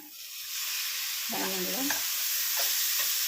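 Cabbage curry with soaked moong dal fries in a pan, a steady close hiss of sizzling oil with a short scrape of a spoon stirring partway through, no voices.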